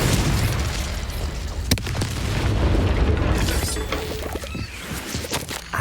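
Confringo explosion spell in Hogwarts Legacy, a loud, booming blast with a rumbling, crackling body, a sharp burst partway through and a fading roar afterward.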